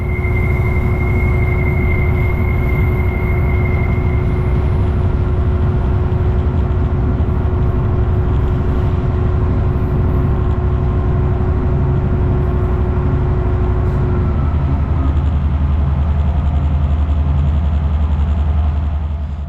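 A Class 59 locomotive rolls along the line from Acton toward Purley, a loud, steady cab rumble of engine and rail noise with a faint tonal whine running continuously for the whole stretch.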